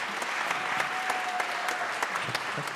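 Audience applause at a klezmer orchestra benefit concert as two brothers are brought onto the stage, a steady, dense wash of clapping with a faint sustained tone running through it.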